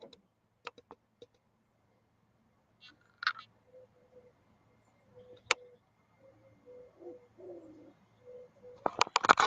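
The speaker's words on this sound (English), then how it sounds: "The annoying birds making noises and stuff." Scattered bird calls and coos outdoors, brief chirps and a few tonal calls spread across a quiet background, ending in a louder burst of noise.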